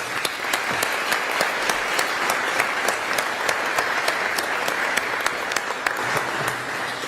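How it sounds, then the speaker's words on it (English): Applause in a state Senate chamber, a sustained round of clapping with sharp individual claps standing out near the front, steady from start to finish. "Let's give them a round of applause as well"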